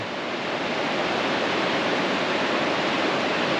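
River rapids on the Middle Fork Salmon River make a steady, loud, broadband rush of churning whitewater that holds constant throughout, with no voices.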